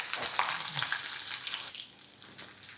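Mustard seeds and green chillies frying in hot oil for a Maharashtrian zunka, a loud, dense sizzle with crackling pops that eases off toward the end.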